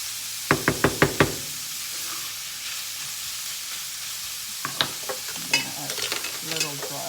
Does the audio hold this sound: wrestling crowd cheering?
no